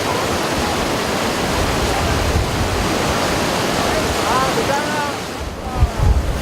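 Steady broadband roar of Changbai waterfall, 68 m high, plunging vertically onto a rock face, a continuous dense rush; faint voices and a couple of brief bumps surface near the end.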